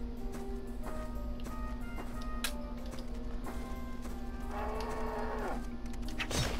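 Synthesized 8-bit cow moo from the retro video game A Bastard's Tale, a wavering electronic tone near the end amid steady chiptune hums and short beeping notes, with no speech.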